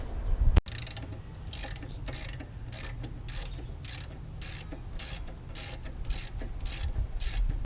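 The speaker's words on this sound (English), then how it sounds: "We're gonna jack up the car right now and then get everything ready to start installing." Car jack ratcheting while lifting a Mazda RX8, a sharp clank at the start followed by a steady series of rhythmic ratchet clicks over a low mechanical rumble, close and without talk.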